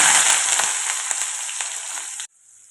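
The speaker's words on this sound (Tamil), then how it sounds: "நல்லெண்ணெய் சூடானதையும் சீரகம் போட்டிருக்கேன் சீரகம் பொறிஞ்ச உடனேயும் ஆனியன் சேர்த்துருக்கேன்" Chopped onion fries in hot sesame oil with cumin seeds, a loud, bright crackling sizzle with brief spits and pops that abruptly drops off near the end, leaving a faint residual hiss.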